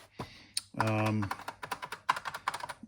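Rapid clicking of keys being pressed on a PC-02 Kyiv computer keyboard, preceded by a brief humming tone.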